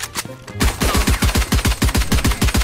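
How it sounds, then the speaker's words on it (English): Rapid pistol gunshots fire in a video game, a fast regular string of sharp loud cracks, more than a dozen shots in about two seconds, following a brief quieter moment. "Let's go, pistol."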